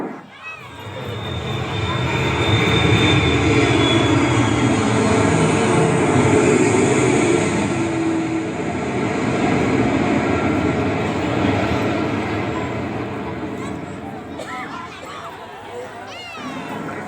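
An airplane on a morning flight, heard in a Tamil TV drama, makes a broad, loud engine roar that swells over a few seconds, holds steady, then slowly fades.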